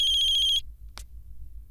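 A telephone rings with a steady electronic warble for about half a second and then stops, followed by a brief click and quiet room tone.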